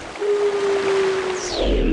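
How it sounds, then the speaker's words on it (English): Link, as a wolf in the game Twilight Princess, lets out a single sustained, clear howl, held at a steady pitch before it bends and fades, loud and heard alone. "on the way down the river, Link will do his wolf impression."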